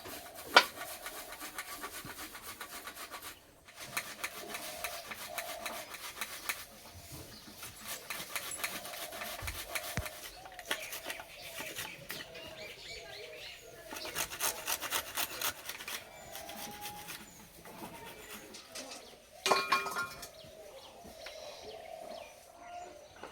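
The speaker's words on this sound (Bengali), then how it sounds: "এদিকে পেঁয়াজ আর রসুনটা গ্রেট করে নেব।" Onion and garlic being grated by hand for a semolina and carrot snack, giving repeated rasping, scraping strokes in bursts with short pauses, close and moderately loud, with no talking.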